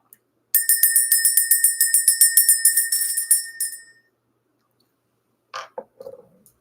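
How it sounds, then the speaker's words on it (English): A bell rung with a rapid run of roughly twenty bright metallic strikes that ring on and fade, followed after a pause by a few faint clicks and knocks. "Let's ring the bell."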